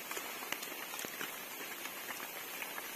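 Rain falling in a forest, a steady faint hiss of drops with scattered sharper taps on leaves and ground, distant and even throughout, no talk.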